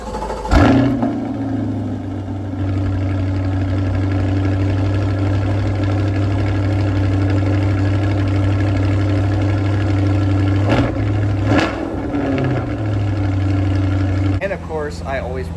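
A 2026 Chevy Corvette engine cranks and fires up close by with a sharp roar, then settles into a loud, steady, deep idle with a couple of brief blips of the throttle.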